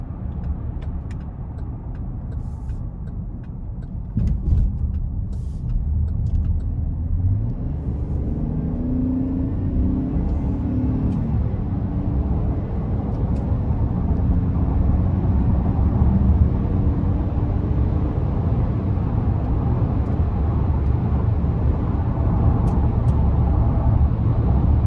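A 2024 Chevrolet Traverse Limited with a V6 accelerates up an interstate on-ramp, its engine drone swelling steadily under road and wind noise from inside the cabin, with no one speaking.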